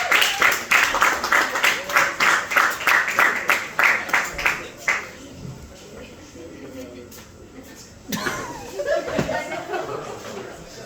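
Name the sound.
comedy club audience applauding the act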